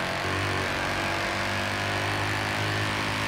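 A steady BMW X6M engine drone, reportedly fitted with a V10, hums continuously in Forza Horizon 4 with a low, even pitch, like a car motor held at constant revs, with no speech over it.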